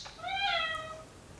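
A pet cat gives a single clear, drawn-out meow, close by and fairly soft, with quiet room tone before and after.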